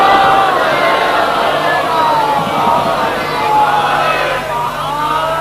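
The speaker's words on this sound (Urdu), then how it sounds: "اتنی ہی بلند صلوات سارا مجمع مل کر محمد آل محمد کو دو." A large congregation at a religious gathering recites salawat loudly in unison, a dense, sustained wash of many voices chanting together throughout.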